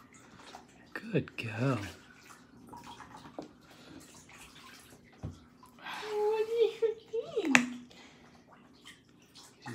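Warm water in a Labrador puppy's first bath splashes and trickles in short bursts near the microphone, while people talk softly and encourage the dog.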